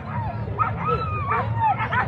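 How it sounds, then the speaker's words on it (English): Sled dogs at the start of the Fur Rondy sled dog race on 4th Avenue in Anchorage, Alaska, bark and yip excitedly in quick, close bursts over outdoor crowd noise. "There's Andy coming down to greet his lead dogs"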